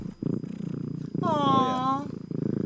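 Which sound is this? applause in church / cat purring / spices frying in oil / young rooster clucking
cat purring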